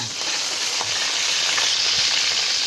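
Ginger dropped into a hot pan with garlic, frying with a loud, dense, steady sizzle up close and faint utensil knocks, no talking.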